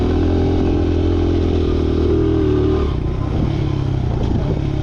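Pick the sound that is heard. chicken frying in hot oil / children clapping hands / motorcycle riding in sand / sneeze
motorcycle riding in sand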